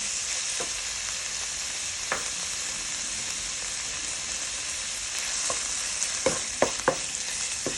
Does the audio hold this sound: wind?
no